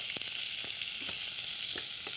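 Onions and urad lentils sautéing in a hot pan give off a steady, bright sizzle with a few soft pops and stirring scrapes, heard close and alone.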